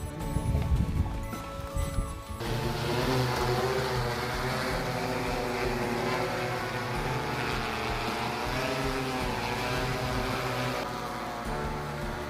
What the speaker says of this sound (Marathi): आज आपण पाहतोय ॲग्रीबोट कंपनीचा हा जो ड्रोन आहे